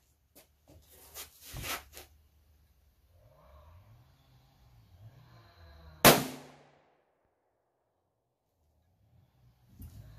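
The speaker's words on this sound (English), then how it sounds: "Alright, third shot on this." A single sharp, loud rifle shot from a Savage .243 with tall scope mounts cracks close by and decays quickly. It is preceded by a few faint handling noises and breaths in a quiet outdoor setting.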